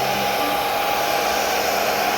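A blow dryer runs steadily at full power, heating the opened internals of an Xbox Series X console, a continuous loud whoosh with a faint whine and no pauses.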